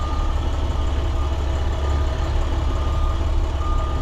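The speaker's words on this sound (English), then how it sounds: "I have a backup alarm" A school bus reverses off a curb with its backup alarm sounding, faint repeated beeps over the loud, steady rumble of the idling diesel engine.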